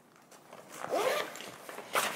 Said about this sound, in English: It's got a flap here on the front with a zipper.